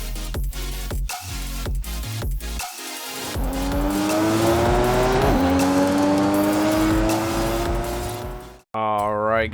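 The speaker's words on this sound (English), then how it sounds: "here we are with the Mitsubishi Eclipse running in at 436 horsepower" In Forza Horizon 5, a tuned 436 horsepower Mitsubishi Eclipse races a touge run, with short bursts and gear changes that give way to a rising, revving engine whine. Tires squeal, and a brief final cut adds a different warbling tone.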